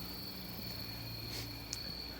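Cicadas buzzing outdoors in a steady, continuous high drone, with a faint rising burst or two, moderately quiet and distant with no talking.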